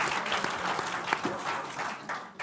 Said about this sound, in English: Let's give a round of applause for Cheryl here.